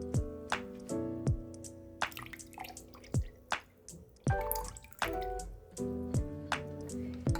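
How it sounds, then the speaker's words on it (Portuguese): Fragrance essence poured into a body splash base in a lab beaker, a series of close, distinct drips and liquid plops falling in an uneven rhythm, with no talking. "Depois é só colocar a essência, 10 ml de essência."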